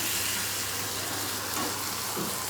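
Masala egg frying in a pan on medium heat: a dense, loud, constant sizzle and hiss, with brief swells as it is flipped.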